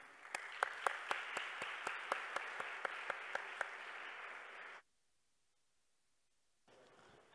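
An audience claps for the Pakistani Islamic Private School, Al-Ain team at a school event: dense, steady applause for about five seconds that cuts off abruptly into near silence, then faint room noise.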